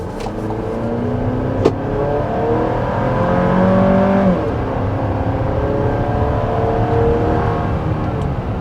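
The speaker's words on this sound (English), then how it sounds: "we are going to start with a hard acceleration" A 2024 Chevy Traverse RS accelerates hard from inside the cabin, its engine droning loud and steady with rising tones that shift as the transmission changes gear, over constant road and wind rumble.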